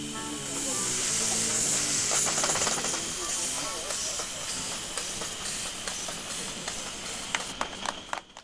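Miniature live steam Duchess locomotive hissing steadily at a small-scale efficiency competition, a loud continuous rush of escaping steam with faint rhythmic clanks and chuffs rising toward the end.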